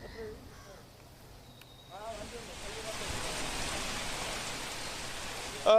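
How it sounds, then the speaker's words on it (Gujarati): Heavy rain pours down in Jamnagar, Gujarat, in a dense, steady hiss that swells after a few seconds, with a voice speaking briefly under it at the start. "પાંચ દિવસથી સતત વરસાદ વરસી રહ્યો છે અને આજે પણ વરસાદી માહોલ છે"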